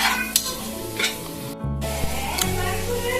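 Chopped tomatoes sautéing with ginger-garlic paste in a pan for chicken biryani, a steady sizzle broken by several scraping stirs of a spatula, close and fairly loud, with no talking.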